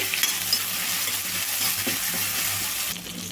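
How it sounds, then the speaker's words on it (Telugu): Onion pieces fry with a little salt for a cabbage poriyal, giving a close, continuous sizzle with faint stirring clinks of a utensil against the pan. "ఉల్లిపాయ ఫాస్ట్గా వేగడానికి అయితే కొంచెం సాల్ట్ అండి ఉల్లిపాయ లైట్గా వేగితే సరిపోతుంది"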